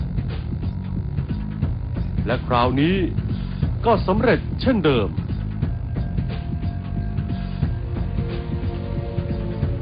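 A steady low vacuum cleaner drone runs throughout while it sucks up mosquitoes and a voice speaks over it.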